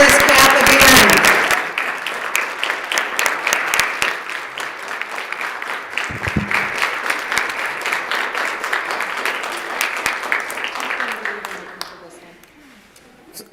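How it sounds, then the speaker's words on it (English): Applause in a state assembly floor session for fiscal staff, a loud burst of many hands clapping that sustains for several seconds before tapering off, with a voice heard at the start. "I would like you all to give him a warm round of applause for all the work that they've done"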